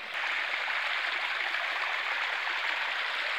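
Steady, close rushing of a cold mountain stream in Haripur Hazara, Pakistan, a continuous broadband water hiss with no breaks and no voices.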